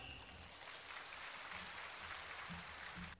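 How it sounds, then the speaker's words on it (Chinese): Audience applause at a Buddhist Dharma gathering in Penang, Malaysia, welcoming a speaker to the stage: a steady, dense wash of clapping from a crowd, sustained evenly for about three seconds before cutting off. "让我们掌声欢迎"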